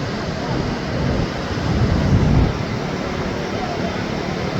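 Sea waves rush onto Karachi beach in a steady, loud wash of surf, swelling briefly in the middle, with wind buffeting the microphone throughout.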